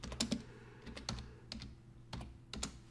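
Keys clatter on a computer keyboard as a DiskPart command is typed, a quiet, close series of irregular clicks in small bursts with short pauses between them.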